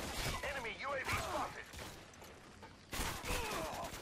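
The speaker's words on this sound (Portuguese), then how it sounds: "Eu não sei da onde vem o tiro." Gunfire in the video game Modern Warfare 2, scattered sharp shots and bursts mixed with game effects, moderately quiet overall.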